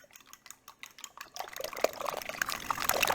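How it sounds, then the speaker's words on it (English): Eggs being whisked by hand in a bowl for egg bites, starting with light sparse taps and building into quick continuous wet clicking and sloshing near the microphone. "Whisk, whisk, whisk."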